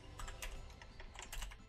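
Quick, light keystrokes tap on a computer keyboard as someone types into the Windows search box, an irregular flurry of soft close clicks with no talking.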